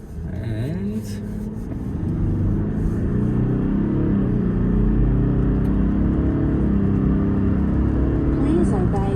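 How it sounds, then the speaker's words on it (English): A Toyota LC300 twin-turbo V6 accelerating, heard from inside the cabin as a steady, deep engine rumble that holds and swells over about nine seconds, with muffled voices underneath. "we can feel that V6 twin turbo take off"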